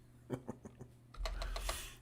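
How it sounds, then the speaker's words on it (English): A handful of keystrokes tapped on a computer keyboard, soft and close, spaced in a loose rhythm before a louder burst of broadband rumble and clatter takes over. "I'm typing a little message here to Kate."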